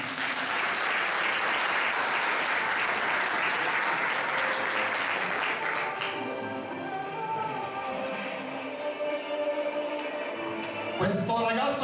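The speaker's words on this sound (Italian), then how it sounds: "Un applauso a Ida!" Audience applause at an awards ceremony for a motorsport memorial event, a dense sustained roar of clapping that fades after about six seconds, with a voice and background sounds continuing underneath.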